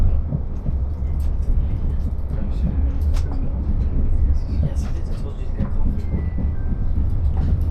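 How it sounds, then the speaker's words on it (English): Irish Rail train at Mallow railway station, a loud, continuous low rumble of the moving carriages with occasional clanks and squeals, heard from on board. "This is Mallow railway station."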